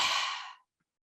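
A single long exhale during a guided breathing exercise, a soft airy rush lasting about half a second that fades into silence, close and alone.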